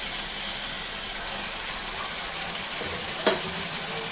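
Two spoons of ginger paste fry in hot oil, giving a steady, moderately loud sizzle throughout, with one brief sharper clatter near the end.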